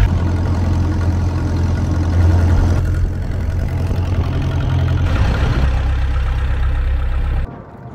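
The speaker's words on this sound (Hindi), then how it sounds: "थोड़ा इंजन की आवाज़ आती रहेगी," Boat engine droning on a trip through a mangrove creek near Karachi, a loud steady low rumble with a constant throb that shifts in tone midway and cuts off just before the end.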